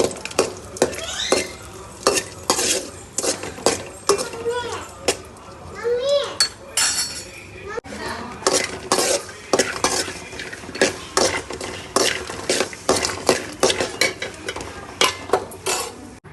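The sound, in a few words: roasting coconut in a pan while stirring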